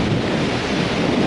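Waves wash in at the water's edge of a windy beach, a continuous loud rush of surf mixed with gusty wind buffeting the microphone, with no voices.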